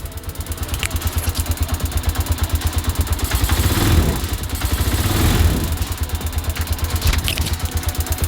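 A small motorcycle engine fitted with a battery-operated CDI conversion runs loud and close with a steady, rapid putter, swelling in two brief revs before settling back to a fast idle.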